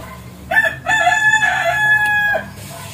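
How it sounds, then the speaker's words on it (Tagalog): A rooster crows loudly and close by in a single long cock-a-doodle-doo, with chickens clucking faintly underneath in a rural yard. "Maraming mga manok"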